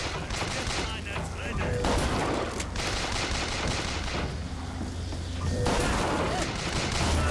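Enemy gunfire in the video game BioShock Infinite: dense, continuous bursts of rapid shots and booms crackle loudly with short gaps, with a voice talking faintly underneath.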